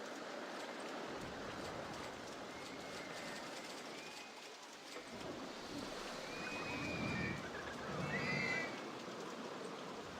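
Steady rain hisses over an amusement park in the RollerCoaster Tycoon game, a constant wash of fine patter with a few faint tonal swells rising in the background.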